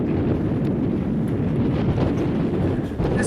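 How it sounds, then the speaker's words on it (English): Gusty wind buffeting the microphone on a hike among red rock and sandstone near Sedona, a loud, constant low rumble that fills the whole moment with no other sounds. "There's too much wind"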